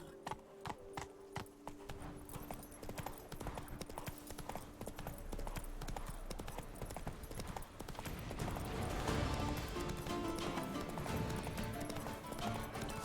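Horse hooves clip-clop steadily at a gallop in The Witcher 3: Blood and Wine, a continuous rhythmic pounding that swells louder toward the end amid game music and ambience, with a brief whinny.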